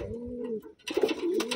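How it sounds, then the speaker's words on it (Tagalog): Pigeons kept for sale in a loft, including a hen, give low repeated coos, clear and close, with a brief pause and then busier chirping and rustle in the second half. "Ayan, ang gandang ibon."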